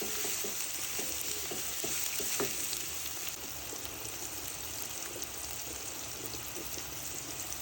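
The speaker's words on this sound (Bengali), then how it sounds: "ভালো করে নেড়ে লবণ পেঁয়াজের সাথে মিশিয়ে নিব।" Onions frying in a pan with salt, for a fish jhuri dish, hiss in a steady close sizzle while a spoon stirs them with scattered light scrapes and clicks.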